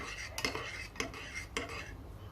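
A spoon stirring unsweetened Hershey's cocoa powder into hot liquid to dissolve it for keto iced cocoa, soft scraping with three distinct clinks against the cup, quiet and close.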